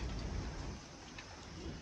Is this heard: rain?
yes